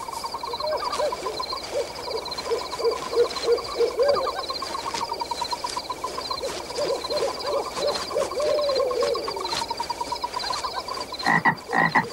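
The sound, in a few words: frog croaking in a pond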